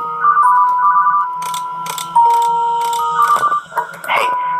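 A telephone rings inside the Five Nights at TubbyLand video game with repeated, trilling electronic ring tones at steady intervals, punctuated by clicks and interface noises, and faint talk under it.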